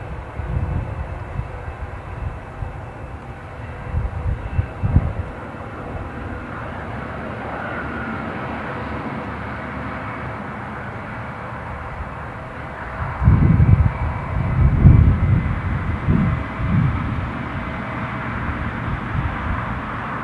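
A British Airways airliner pushing back at Newcastle airport sends out a steady, broad engine roar that holds throughout, with heavier low rumbling swells midway and no voices.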